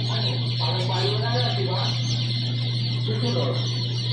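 Newly hatched Rhode Island and black Australorp chicks peeping in a busy, high-pitched chorus over a steady mechanical hum, close by, with a person talking.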